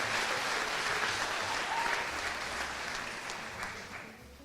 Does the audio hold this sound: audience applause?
yes